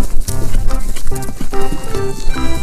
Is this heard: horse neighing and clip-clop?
yes